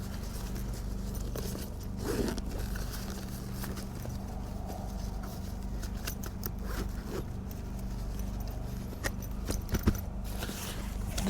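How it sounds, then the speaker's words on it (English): Zippers on the ends of a Benlari ATV rack storage bag are pulled open, producing faint, intermittent scratchy zipping and rustling sounds with a few sharper clicks near the end, close and quiet, without speech. "got these zippers here in the ends. Open up."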